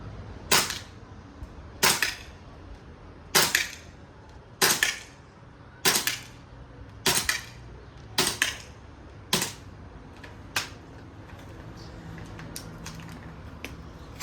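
Noveske MWS gas blowback airsoft rifle firing 0.32 BBs on 150 psi green gas at a 10 meter target: nine sharp, loud shots at roughly one-second intervals, then only faint clicks and handling noise.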